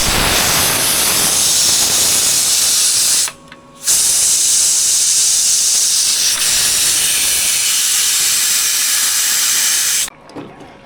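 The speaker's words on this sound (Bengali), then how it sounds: "এখন আমি প্রেশার কুকারের হাওয়া ভিতর যে হাওয়া ওটা বের করে দিব।" A pressure cooker of dal venting its steam in a village kitchen, a loud, continuous close hiss that cuts out briefly twice before resuming.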